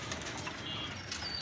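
Oman teddy pigeons flap their wings in a quick, soft flurry of feathery beats, fairly faint against a steady background hum.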